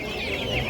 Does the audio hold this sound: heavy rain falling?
no